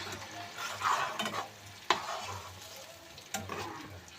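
Tomato curry added to a hot spice tempering hisses and sizzles continuously while a spoon stirs, giving close, sharp scraping clinks at intervals.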